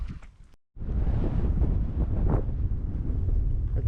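Wind gusting at Yardy Creek near the gorge inlet, buffeting the microphone with a continuous loud rumbling roar after a brief lull.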